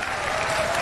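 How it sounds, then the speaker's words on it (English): Audience applause inside a German church, a brief, dense burst of clapping from a crowd, heard close and steady. "And they applaud this pineapple head."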